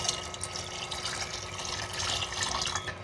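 Two and a half cups of water poured into a pot of oats mixed with five kinds of lentils: a continuous, fairly loud gushing flow, close by and steady throughout, with no talking.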